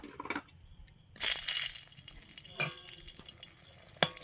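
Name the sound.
asafoetida sizzling in hot mustard oil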